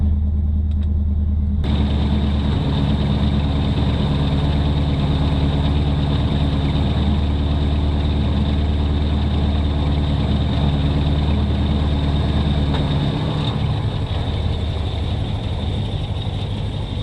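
A 1977 Mercury station wagon's engine idles steadily after starting, a low even rumble that holds for the whole stretch and eases slightly near the end.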